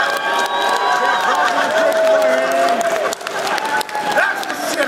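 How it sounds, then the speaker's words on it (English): Audience at a BronyCon convention panel clapping and cheering on request, a dense wash of applause with scattered whoops and chatter, loud and close throughout. "You guys suck at clapping. Do it again."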